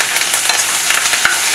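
Green chilies and curry leaves crackling in hot tempering oil for khaman, a loud, close sizzle with small pops and spits running throughout.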